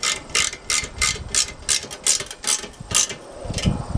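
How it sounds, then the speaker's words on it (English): A ratchet wrench tightens nylock nuts on a tractor seat, clicking in about ten quick, evenly spaced bursts, close and loud, with no voices. "so now I can go ahead and get them all tightened up, and I'm using nylock nuts"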